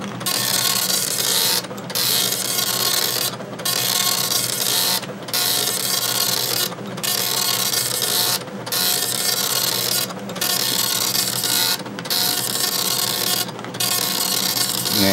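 A Commodore MPS-803 dot matrix printer with a worn ribbon hammers out lines in a loud, steady mechanical buzz, broken by brief regular pauses every couple of seconds as the print head returns, with no talking.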